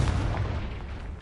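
Explosive Confringo fire blast spell from Hogwarts Legacy, a deep rumbling boom that fills the short moment, loud and sustained with heavy low-end weight.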